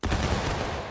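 A company of Civil War reenactors fires a musket volley at Fox's Gap, a dense, loud burst of overlapping shots that rolls for a second.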